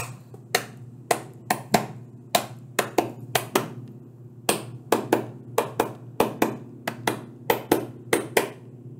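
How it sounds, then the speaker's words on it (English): Sharp hand claps ring out close and clear in an uneven rhythmic pattern, sometimes single and sometimes in quick pairs, over a low steady background hum in a classroom. "Maybe you want to just clap it."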